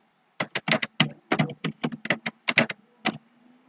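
Quick bursts of keystrokes on a computer keyboard, close and fairly quiet, in uneven clusters with short pauses between them in a quiet room.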